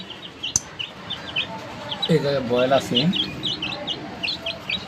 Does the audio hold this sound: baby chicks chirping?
yes